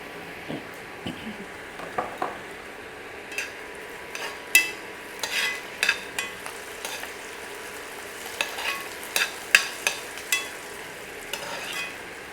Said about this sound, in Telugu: సో పచ్చిమిర్చి అండ్ ఆనియన్స్ వేగుతున్నాయి.